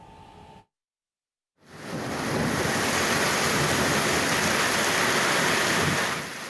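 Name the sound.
flash flood water rushing after heavy rain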